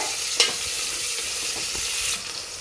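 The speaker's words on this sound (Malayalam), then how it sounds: "ഇപ്പോൾ തന്നെ നമ്മുടെ ഉള്ളിയൊക്കെ ഇട്ട് ഇപ്പോൾ ഇളക്കിക്കൊണ്ടിരിക്കുകയാണ് കേട്ടോ" Onions fry in a hot pan while being stirred, a steady close sizzle broken by a few soft scraping stirs.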